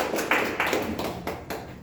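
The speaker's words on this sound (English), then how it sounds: "Give a big round of applause." Club meeting audience giving a round of applause, moderate scattered clapping in several swelling bursts, fairly close and without talk.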